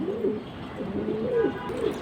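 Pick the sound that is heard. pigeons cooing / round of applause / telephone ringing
pigeons cooing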